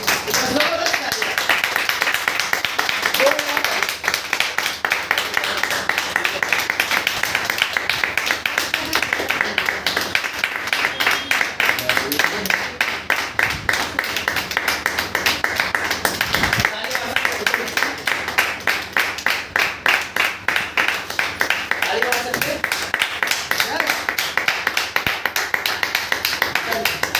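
Sustained audience clapping at a cheque presentation ceremony in Delhi, dense rhythmic applause filling the whole stretch with someone talking over it.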